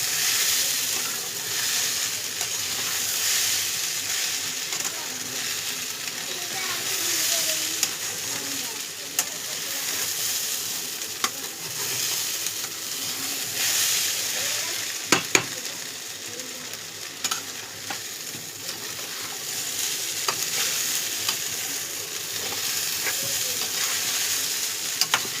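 Goat mince sautéing in a pan for khichuri, a long, steady sizzle with ongoing stirring and scraping and a few sharp spatula clicks, no speech.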